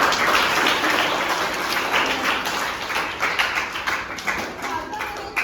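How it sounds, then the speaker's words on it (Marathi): Children and guests at a village Zilla Parishad school's Children's Day celebration clap loudly together, a dense, steady round of applause from the whole audience that lasts throughout and slowly thins toward the end. "एकदा त्या चाचा नेमूसाठी जोरदार टाळ्या"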